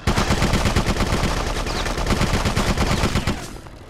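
Rapid automatic gunfire during mecha combat in the video game BloodRayne: Terminal Cut, a loud, dense, unbroken burst of shots that stops abruptly near the end.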